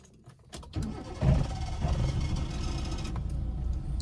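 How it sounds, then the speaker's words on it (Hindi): A car engine cranks and fires with the clutch held down during a driving practice lesson, a sharp start followed by a steady, fairly loud idle rumble close by. "क्लच दबा के इंजन स्टार्ट करो, पहले पूरा क्लच दबाओ।"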